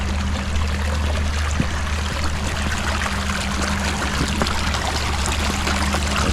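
A forest stream runs over rocks in a close, continuous trickling rush, steady throughout with small splashes and no talking.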